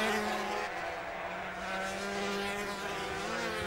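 250cc racing motorcycles at the 1999 Sunflower Trophy, a steady high-revving engine scream carrying continuously on the track, loud and sustained with no speech.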